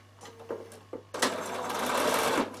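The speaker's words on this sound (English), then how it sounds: "we're going to sew just inside that stitching line" A Bernina sewing machine starts up after a few soft clicks and runs steadily, stitching through fabric with a continuous whirring drone close by.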